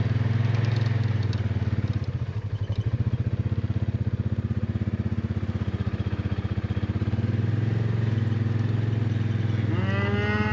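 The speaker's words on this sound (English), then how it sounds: "There's some of the cows." A cow moos in a pasture, one long, loud, low drawn-out bellow held for many seconds, close to the listener, with a faint higher sound at the very end.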